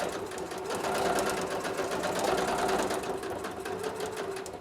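A sewing machine quilts through the front panel of a vest, its needle running in a fast, continuous hum at close range for the whole stretch, steady in loudness and without talk.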